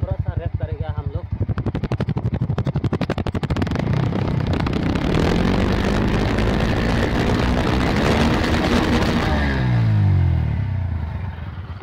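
A Bajaj NS125 motorcycle engine idles and revs close by with a steady mechanical clatter of worn timing chain noise, rising in pitch as the engine is blipped, while someone talks over it throughout.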